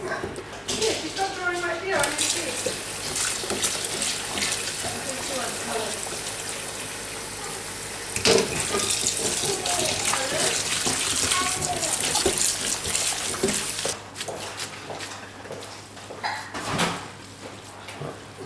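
Cold water runs steadily from a tap, gushing and splashing into a bowl holding freshly boiled homemade pasta, with a person talking over it partway through.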